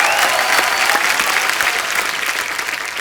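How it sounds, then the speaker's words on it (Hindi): A studio audience at The Kapil Sharma Show, a comedy talk show, breaks into loud, dense, steady clapping that fills the room and holds evenly throughout, with no voices over it. "एक बार बरेली की बर्फी की टीम के लिए जोरदार तालियां।"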